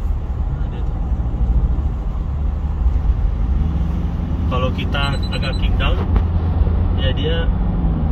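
Diesel engine of a used 2014 Toyota Fortuner G automatic, facelift model, heard from inside the cabin during a kick-down, a steady low drone and road roar that build slightly, with someone talking over it.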